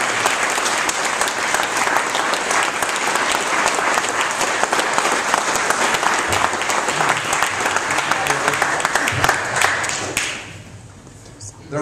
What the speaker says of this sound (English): a great round of applause for them